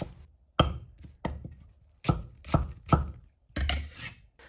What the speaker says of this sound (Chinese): 半个洋葱切成小块